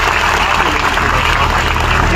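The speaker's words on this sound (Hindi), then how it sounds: "उनका भी जोरदार तालियों से स्वागत और अभिनंदन करेंगे।" An audience at a farmers' gathering after a national highway blockade claps loudly to welcome SP Gangaram Punia, steady close applause with a bustle of crowd voices underneath.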